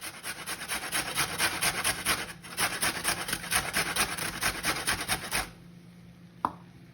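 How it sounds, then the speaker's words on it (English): A carrot is scraped against a hand grater in a home kitchen, making steady, rapid rasping strokes for about five seconds. The scraping then stops and the room goes quiet, apart from a single small knock. "The next item to prepare is a carrot, which I'm just peeling and getting grated up."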